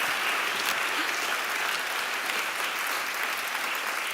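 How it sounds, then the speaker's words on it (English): Sustained applause fills the room at a sustainability celebration, an even, dense roar of many hands clapping continuously at a steady level with no talk over it. "Gosh, we are getting claps."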